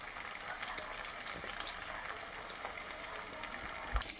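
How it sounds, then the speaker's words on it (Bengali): Bread balls fry in oil over a low flame with a soft, steady sizzle that stays faint throughout, and a small clink lands near the end. "এগুলো একটু লো ফ্লেম, অল্প একটু ভাজতে হবে।"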